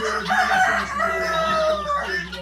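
Farm fowl give out loud, nasal, drawn-out calls close by, continuing over a low steady background hum.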